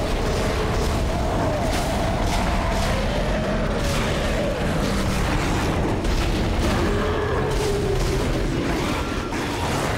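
Heavy weapon fire in the sci-fi horror game Dead Space, a dense, continuous barrage of booming blasts and mechanical clatter under tense game music, loud and sustained throughout.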